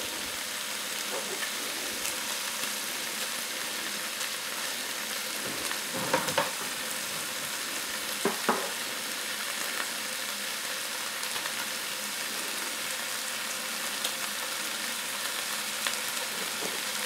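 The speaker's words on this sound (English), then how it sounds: "get them crispy on the other side, and then we'll add our potatoes and the butter and the spices" Sausage sizzles in a pan as it crisps, a steady, close hiss of frying fat lasting throughout with a few faint pops and utensil taps.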